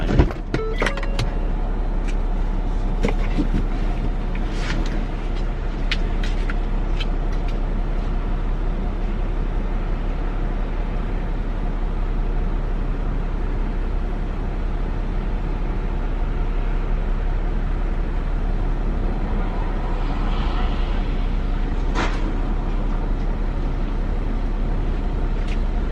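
Steady road and engine rumble from inside a car driving past a movie theater near a gas station, a continuous low drone with a few faint clicks and knocks, no talking.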